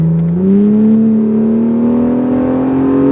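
Acura NSX on a racetrack drops a gear, its engine note jumping up then climbing steadily in pitch as it accelerates, a loud, close in-cabin drone with a smooth rising whine.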